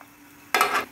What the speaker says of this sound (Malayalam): അണ്ടിപ്പരിപ്പ് ഇപ്പോൾ ഫ്രൈ ആയിട്ടുണ്ട്